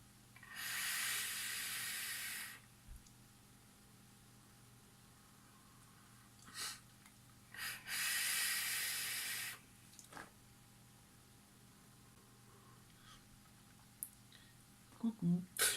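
An electronic cigarette set to 78 watts on a 0.14 ohm coil fires in two strong, airy hissing puffs a few seconds apart, with brief breathy sounds and a voice starting at the end.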